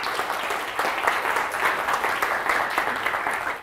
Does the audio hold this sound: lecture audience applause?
yes